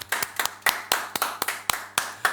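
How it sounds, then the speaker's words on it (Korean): Church congregation clapping hands during a Korean Sunday worship service, a steady run of about a dozen sharp, evenly spaced claps, fairly close and moderately loud, with no talking. "우리 하나님께 영광의 박수 돌리겠습니다."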